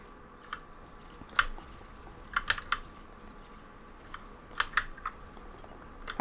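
Soft keyboard and mouse clicks while playing Risk of Rain, heard as sparse, quiet taps in small clusters against a faint background hiss, with no talking.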